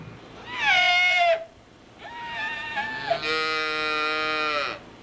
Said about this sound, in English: In the background, you can hear the mother cows trying to communicate with their babies.